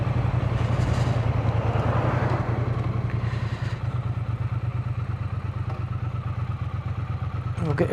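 Triumph motorcycle pulling in beside a van on a coastal road, its engine a loud, steady low rumble idling close by, with faint clatter and wind.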